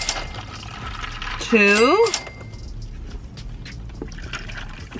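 A drink is poured into a container with a steady liquid trickle and filling gurgle. A voice speaks briefly over it, and a short rising sung or squealed note stands out in the middle.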